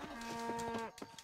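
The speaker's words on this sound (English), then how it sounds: "I wonder if they get mad if I hurt their fucking cattle" Cattle in Red Dead Redemption give a drawn-out, tonal moo lasting most of a second, followed by brief scuffling sounds and faint soft impacts.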